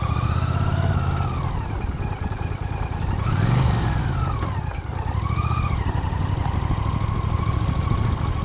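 A 1983 Honda CX650 Turbo motorcycle engine runs steadily up close, its low droning hum rising and falling as the revs swell and ease back, with a whining tone sweeping up and down over the rumble.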